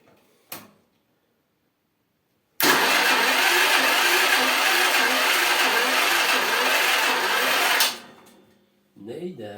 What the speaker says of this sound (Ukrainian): Пробую перше заводити стартером.